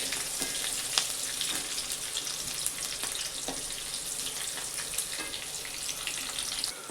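Green chilies roasting in hot oil with cumin for kanda pohe produce a steady, fine crackling sizzle, fairly quiet and even throughout, with a few faint pops and no voices.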